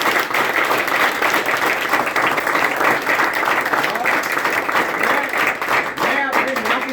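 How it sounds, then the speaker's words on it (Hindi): A crowd at a training session bursts into loud, sustained clapping for their parents. The dense applause carries on for several seconds, and voices can be heard within the noise. "तो एक बार तो मम्मी पापा के लिए भी जोरदार ताली।"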